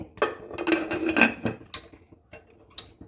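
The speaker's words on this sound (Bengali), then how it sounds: "আস্তে করে কেকের পাত্রটা বসিয়ে দিলাম" A metal cake pan is lowered onto a stand inside a pressure cooker, giving a quick cluster of close metallic clinks and clanks, then a few lighter taps, with no talking.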